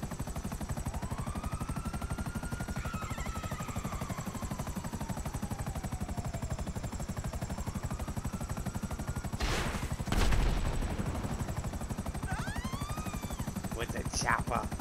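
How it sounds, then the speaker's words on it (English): Helicopter in the GTA 5 video game, a steady rotor drone running throughout with bursts of gunfire near the middle and end. "With a chopper."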